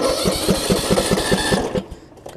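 A riding lawn mower with nearly new oil turns over and catches, its close, loud engine pulsing in a steady rapid rhythm for about a second and a half before cutting out into a brief quieter sputter.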